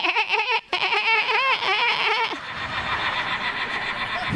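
A voice imitates a machine gun with rapid, warbling vocal bursts. A brief gap falls early on, then a breathy, noisy tail follows.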